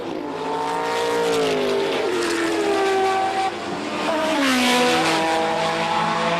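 Group C and GTP sports prototypes race at Donington, among them an 800 bhp Nissan turbo car. Loud engines howl past with rising and falling pitch sweeps as they accelerate and shift, the roar layered and continuous.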